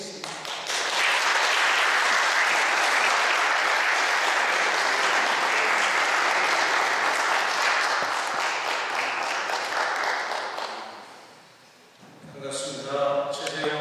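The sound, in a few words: applause welcoming a speaker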